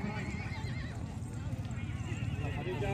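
Racehorse neighing with quick clip-clop of hooves at a horse race, loud and continuous throughout, mixed with crowd noise and an announcer talking over it.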